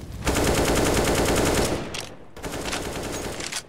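Rapid automatic gunfire in Counter-Strike: Global Offensive, a loud sustained burst of shots, a short pause, then a second burst.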